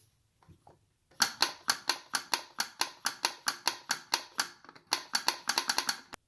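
A washing machine's pressure switch clicks as air is blown into its hose, giving a run of sharp, close, evenly paced ticks that turn quicker and more clustered toward the end, with no talking.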